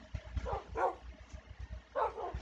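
Dogs in the LEGO Island video game bark in a few short, close yips and woofs, with two clustered barks early and another pair near the end over a low background rumble.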